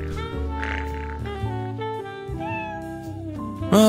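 A kitten meows in short, melodic cries over steady harmonic background music, with a sharper, louder call near the end.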